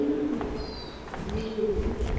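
Pigeons coo in a run-down, graffiti-covered passage near a river, a soft repeated cooing over steady outdoor ambience with no talk.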